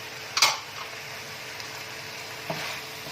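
Fried chicken being stirred into Manchurian sauce in a pan, with a sharp scrape and sizzle near the start and another stir clink later over a steady low frying hiss.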